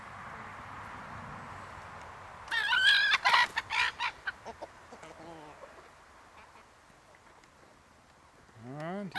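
German Buschhuhn chickens outdoors, a short burst of excited clucking and squawking from a hen, then quieter scattered clucks, with a faint rooster-like call near the end over low background noise.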